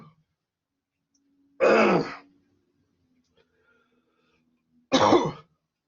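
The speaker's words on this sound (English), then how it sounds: "It's like I got a dry spot when I breathed in. Made me cough." A person coughs and clears their throat indoors while drawing with paint, two short, close throaty bursts a few seconds apart with near silence between.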